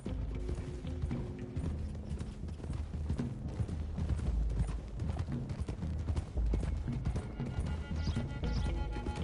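Horses gallop steadily in Red Dead Redemption 2, a dense rumble of hoofbeats that carries on without a break, loud and close.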